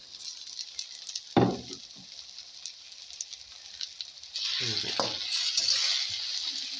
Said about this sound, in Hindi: ये देखिए फ्रेंड, ये फ्राई हो रहे हैं।